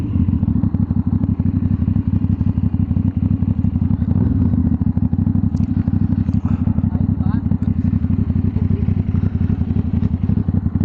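A 450cc motorcycle engine idles loudly and continuously nearby, a rapid, rough putter with faint clattering on top.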